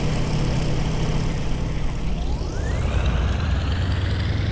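A WWII propeller plane in IL-2 takes off, its engine droning loud and steady, with a short whine rising in pitch partway through.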